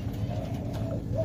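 Pet birds in a cage cooing and calling softly, a brief low warbling phrase with a faint rising note at the end, close and quiet over a steady background hum.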